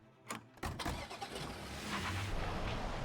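A car engine starting in the game Forgotten but Unbroken: a short crank, then the engine catches and settles into a steady close idle hum.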